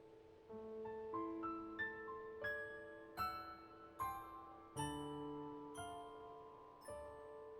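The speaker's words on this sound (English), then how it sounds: "An old locomotive bell." A series of bright metallic strikes from an old locomotive bell, each ringing out with a long decaying tone, arriving about once a second and growing slightly louder, heard alone in a Sherlock Holmes game setting.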